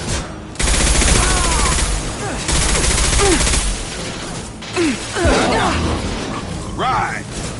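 Automatic weapon bursts and sharp impacts in the sci-fi shooter Mass Effect Legendary Edition, with loud sustained volleys from about half a second in, pausing briefly, while voices and radio-style chatter run over the firing.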